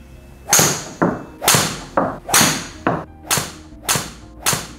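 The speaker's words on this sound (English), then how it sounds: "going to go ahead and hit a couple of shots for us here" Golf club strikes in an indoor club-fitting bay, seven sharp impacts spaced roughly every half second to second, each a crisp crack followed by a brief ringing decay, close and fairly loud with no talk.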